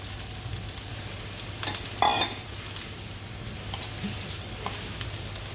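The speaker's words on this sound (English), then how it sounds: "just fry my onions now" Onions and ginger fry in a pan with a steady, close crackling sizzle, briefly swelling louder partway through as they are stirred.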